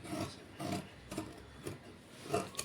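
Scissors cutting through blouse cloth in four or five separate rasping snips, close and fairly crisp, with brief quiet pauses between each cut and no talking.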